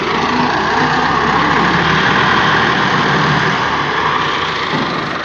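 A Tractor 385 engine runs steadily and loudly close by during ploughing on a village farm in Dera Ghazi Khan, a continuous heavy drone without pauses.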